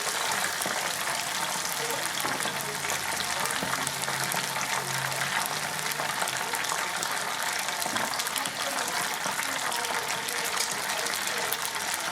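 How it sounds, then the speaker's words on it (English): Squid tempura in batter is deep frying in a fryer with a steady, dense hiss and crackle of bubbling oil, close and constant throughout with no talk. "lower it gently into the fryer"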